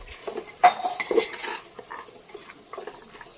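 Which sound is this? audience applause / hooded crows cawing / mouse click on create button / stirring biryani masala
stirring biryani masala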